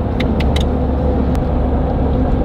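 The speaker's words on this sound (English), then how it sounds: "You can hear the tires" Steady low road rumble inside a Jeep Wrangler cruising at about 40 mph, tires droning continuously with a few faint high clicks over the top.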